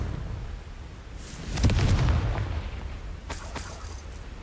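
Fire spell explosion from Confringo in Hogwarts Legacy, a single deep boom swelling and fading over a low rumble, followed by a brief crackle, with no talk.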